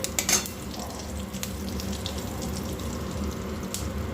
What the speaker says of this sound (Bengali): তিলটা আগে দিলাম এই কারণে তাহলে তিলটা ভাজা হয়ে যাবে